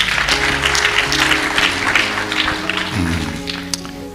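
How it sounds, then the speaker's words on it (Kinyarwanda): Applause from a church congregation at a wedding ceremony, steady clapping throughout with music or singing tones running underneath. "Dukomere Imana amashyi."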